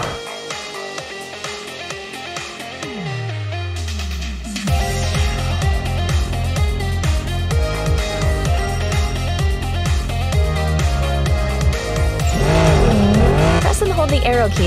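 Racing car drifting through a sharp curve in the video game Ace Racer, engine roaring steadily with a sustained tire squeal over a continuous music bed.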